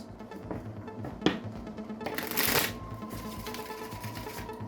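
Oracle cards are shuffled by hand in a quiet room, a few soft riffling flutters with a fuller burst midway, close and clear, with no speech.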